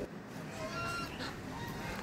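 A flock of ducks honks and quacks together in a busy, overlapping chatter near a fishing spot by the water, loud and close, with a little background noise.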